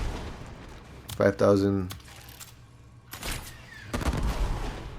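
Bow shots fired in the Warframe game while playing Mirage: a few sharp, sudden impacts with rattling tails, spaced apart, mixed with someone talking over them.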